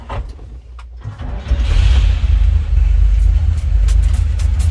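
A 1945 Chevrolet AK inline-six starts: a short crank from near silence catches at about 1.5 s and settles into a loud, steady low rumble close by, with no talking.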